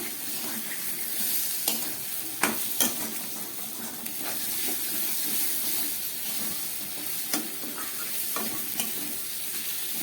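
Chopped tomato drops into a spice paste frying in oil, giving a steady close sizzle with scraping stir strokes and a few sharp clinks across the whole stretch.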